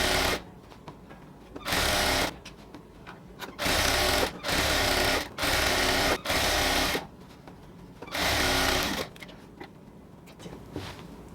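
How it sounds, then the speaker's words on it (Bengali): Sewing machine stitching elastic onto the waistband of salwar pants, running in repeated bursts of steady whirring about a second long, separated by short pauses, close and alone without talk. "ইলাস্টিকটাকে ফিক্সড করার জন্য এটার উপরে একটা সেলাই দিয়ে দেব"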